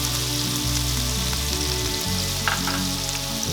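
Garlic and lemon juice sizzle in a pan over medium-low heat, a loud, dense, continuous frying crackle close up, with a few utensil taps near the end.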